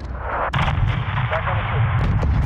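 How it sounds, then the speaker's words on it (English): A missile launch and explosion in Call of Duty Modern Warfare 2 close-air combat: a loud, booming artillery-like blast at the start of a sustained roar, with a sharp secondary crack near the end and radio chatter beneath. "Missile away."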